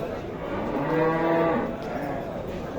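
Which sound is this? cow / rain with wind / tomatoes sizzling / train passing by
cow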